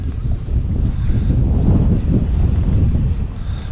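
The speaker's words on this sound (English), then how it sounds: "We got the wind coming in today." Steady wind buffeting the microphone beside a lake during a bass fishing outing, a continuous low rumbling roar with light water lapping underneath, holding at an even, fairly loud level throughout.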